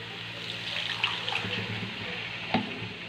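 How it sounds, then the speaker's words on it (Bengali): Water poured into a pan of egg and banana-flower curry on the stove, a steady close splashing trickle with a couple of small clinks, no talking. "এবার পরিমাণ মতন জল দিয়ে দেবো"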